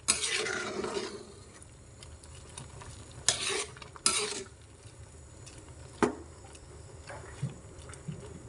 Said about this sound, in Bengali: পেঁপে দেওয়ার পরে আবারও নেড়ে ছেড়ে নিব